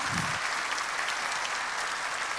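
A church congregation applauds during a sermon, a steady, even wash of many clapping hands that continues at constant loudness throughout.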